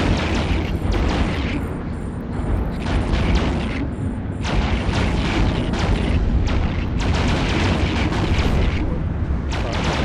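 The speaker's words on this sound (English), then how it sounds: "It's cool to see him blow up ships, though." Ships explode during a space battle in EVE Online, heard as a dense, continuous rumble of booming blasts and weapon fire, loud and sustained with bursts of crackle rising and falling throughout.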